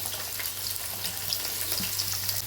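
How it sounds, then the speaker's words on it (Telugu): Onions frying in oil in a kadai while a chicken curry is being made give off a steady, close sizzle and crackle that runs unbroken throughout, with a low hum underneath. "ఇప్పుడు ఉల్లిపాయలు వేసుకొని గోల్డెన్ బ్రౌన్ కలర్ వచ్చేదాకా ఫ్రై చేసుకోవాలి."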